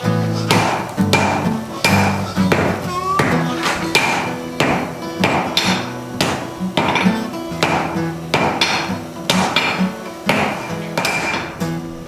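A smith hammers a hot iron bar while forging an axe, steady repeated metallic blows ringing close and loud for the whole stretch, with no talk.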